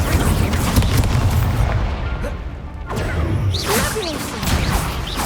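In Hogwarts Legacy, repeated Incendio fire spells are cast, producing loud roaring whooshes and booming bursts that merge into a continuous, dense blast with brief sweeping swishes.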